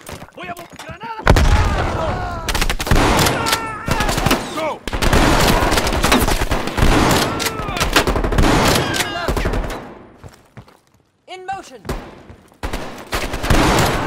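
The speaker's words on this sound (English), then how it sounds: "They're shooting at us!" Bursts of automatic gunfire and booming shots in the Call of Duty Black Ops Cold War Havana 1981 mission, loud and close, with shouted voices over the shooting and a brief lull near the end.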